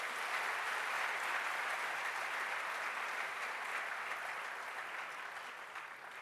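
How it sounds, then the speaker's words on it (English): Applause from the audience at a university professorial inaugural lecture, a broad, even wash of many hands clapping. It fills the room steadily, then slowly fades toward the end. "A round of applause once again."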